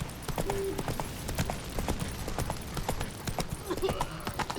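Horse Roach's hooves clip-clopping at a steady walking pace in The Witcher 3, close and moderately quiet, with a brief neigh and a voice speaking.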